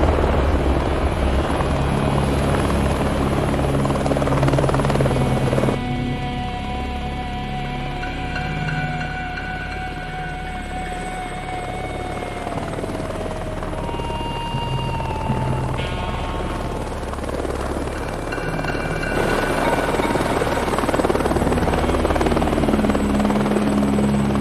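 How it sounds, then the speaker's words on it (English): A helicopter drones loudly and steadily throughout, its rotor and engine noise continuous with slight shifts in pitch and level as it passes, with no talking. "Big Deal's got his own helicopter service instead"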